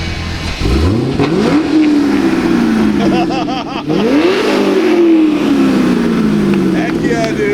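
A C6 Corvette Z06's LS7 V8 through an AWE exhaust revs hard twice, sharp rising bursts that fall away into a loud burbling idle close by, with voices faintly underneath.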